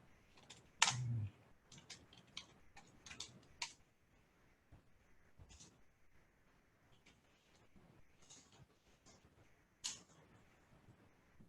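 Someone types on a computer keyboard, producing irregular bursts of quiet clicks with one sharper knock near the start and short pauses between runs of keystrokes. No voices.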